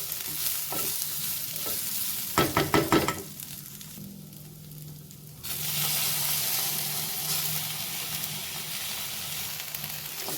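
Onion and coconut masala sautéing in a pan as tomatoes are mixed in: a spoon scrapes and clatters briefly, then a steady close sizzle and fry hiss carries on alone.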